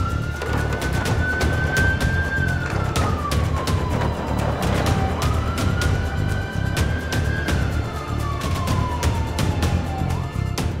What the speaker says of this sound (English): put on the blue light and the sirens